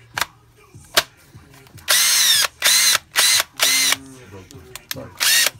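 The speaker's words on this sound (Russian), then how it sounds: "Так, шуруповерт работает." A cordless screwdriver is test-run in several short bursts of whirring motor, each about half a second to a second long, close and loud, separated by clicks and handling noises.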